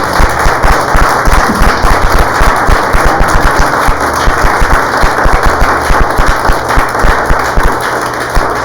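Church congregation applauding during a Spanish-language service, a dense, steady wash of clapping that fills the whole stretch, loud and close with a few sharper claps standing out.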